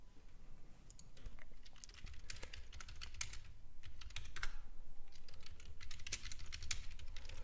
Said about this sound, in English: You do hear typing, so that's not your imagination. That's just me typing to the chat room community that I offer.